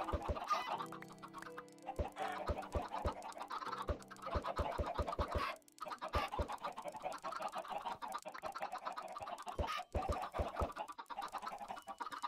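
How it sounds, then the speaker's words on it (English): Minecraft chickens cluck and squawk in a steady, busy stream, several birds overlapping at close range with no voices over them. "My chickens are doing well, it seems."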